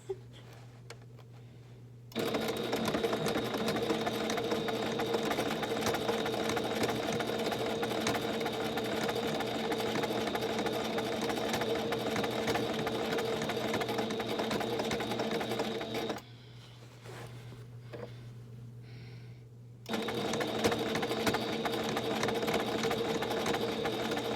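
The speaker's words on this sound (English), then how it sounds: "So I'm just gonna sew." A sewing machine stitches a denim hem in a steady, loud mechanical whir that runs for long stretches, stopping briefly once before starting again. It is close and has no voices over it.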